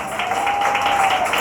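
A church congregation applauds during a Sunday morning worship service, dense sustained clapping filling the room at steady loudness, with a faint held tone running underneath.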